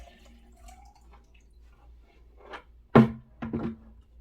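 Water poured from a bucket into a small container while maintaining a betta fish tank: quiet drips and a few short splashes near the end, close and soft against a faint background hum.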